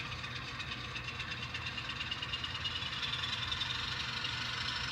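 An N scale model train locomotive runs along a layout track during switching practice, giving a faint, steady mechanical whir and hum that continues without a break and with no voices.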